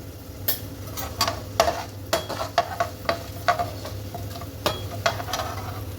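Urad dal fries in a pan while a spoon stirs it, giving a soft background sizzle with irregular sharp scraping clicks against the pan.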